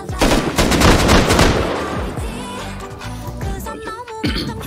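Rapid automatic gunfire rattles against a wall in the survival video game Rust during a raid. Loud, close bursts come first, followed by scattered shots and fading echoes.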